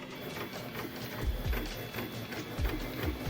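A 3D printer hums and whirs as it prints a fitted box for gate-control electronics. Its stepper motors chirp in short, repeated sweeping bursts over a steady mechanical drone, close and moderately loud.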